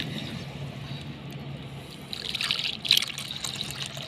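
Tea being poured into a cup, a soft liquid trickle that rises in the second half over a steady low kitchen hum, close and fairly quiet, with no talking.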